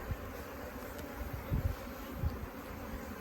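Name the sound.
package bees buzzing, top bar hive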